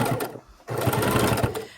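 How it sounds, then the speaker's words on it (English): A sewing machine runs steadily while stitching a thin line around the edge of a potholder, close and clear, with one brief pause before the whirring resumes. "we are going to make our real thin line all the way around our potholder"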